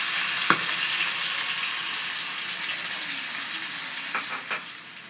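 Blended onion paste sizzles steadily in a pan for an egg korma, with a soft, even frying hiss and a few light stirring clicks, one sharp tap near the start and a couple near the end.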